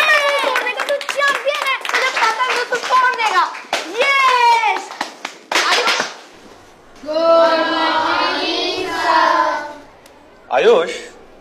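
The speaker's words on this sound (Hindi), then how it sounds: "आयुष तालियां बहुत हो गई" Children clap their hands together in a lively burst lasting a couple of seconds, preceded by excited kids' voices and followed by a short shout.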